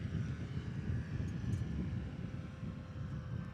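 A STOL competition airplane comes in to land, a steady low engine drone with a faint propeller thrum, moderately distant and unbroken for a few seconds.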